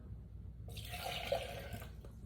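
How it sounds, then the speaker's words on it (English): Water for a homemade juice pours steadily into a container, a close continuous splashing stream that starts abruptly and runs without talk. "First, you're going to put in the water."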